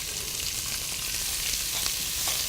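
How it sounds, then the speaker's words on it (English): About a cup and a half of finely diced onions fry in a pan for a short stretch of dense, even sizzling, heard up close, broken only by faint scraping from stirring. "So chopped onions is what we're adding here."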